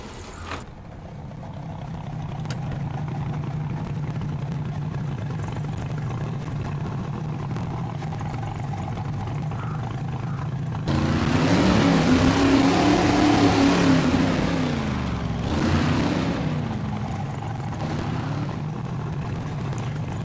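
A truck engine in the video game SnowRunner idles steadily, then revs up loudly for a few seconds before dropping back to a low rumble.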